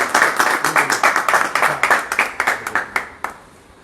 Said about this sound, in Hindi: जोरदार तालियां महेंद्र पाल जी के लिए।